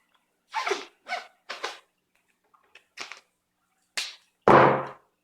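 A roll of duct tape is pulled off in several short, rasping tearing bursts close by, with small pauses between them and one longer, louder rip at the end, with no talking.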